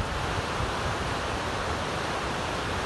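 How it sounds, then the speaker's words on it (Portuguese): A waterfall in Triunfo after heavy rains roars with dense, steady rushing water, a loud broadband hiss with no pauses or voices. "a força da queda d'água de uma cachoeira chamou a atenção"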